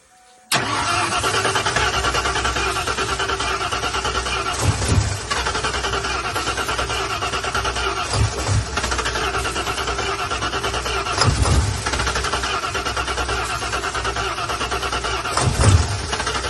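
A 1988 Ford F-150 with its intake box removed cranks steadily for a long stretch without firing, a loud continuous starter whir broken by periodic surges.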